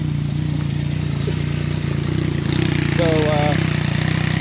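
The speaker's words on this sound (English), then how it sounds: "the SuperDuke with the Akrapovic exhaust, so you can hear" A KTM SuperDuke 1290R with an Akrapovic exhaust and its silencer removed idles with a deep, steady, rumbling beat close by, while a person talks over it.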